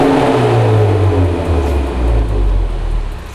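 A Ford Mustang coupe's engine revs loudly and continuously up close, its low exhaust note rising and falling over a few seconds.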